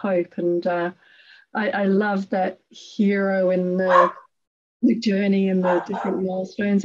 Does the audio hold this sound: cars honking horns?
no